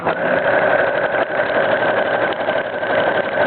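A sewing machine runs steadily while stitching a buttonhole, a continuous fast mechanical whir with a rapid needle rhythm, close and even with no pauses.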